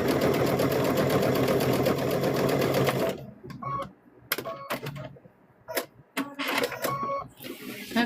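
A sewing machine runs fast and steady for about three seconds while stitching a quilted thread catcher bag, then stops. Short bursts of stitching and handling clicks follow, with gaps between them.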